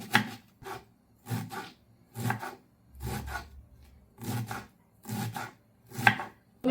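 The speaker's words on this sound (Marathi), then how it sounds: "पत्ता कोबी पण एकदम बारीक बारीक कट करायची आहे" A knife finely chops cabbage and green chillies on a board in rapid bursts of crisp blade strikes, about eight close, loud runs separated by short pauses, with no voices.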